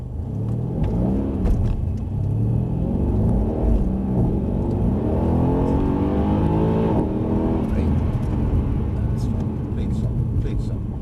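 Mercedes-AMG C63 saloon accelerating hard in Sport Plus mode on a driving course, a loud rumbling engine rising in pitch through gear changes, with people talking over it.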